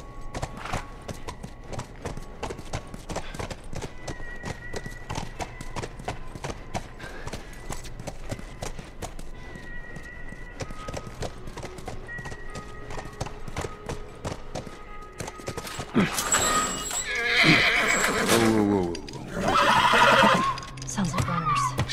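Horse in the video game The Last of Us, with steady rhythmic clip-clop hooves throughout and loud neighs and whinnies near the end.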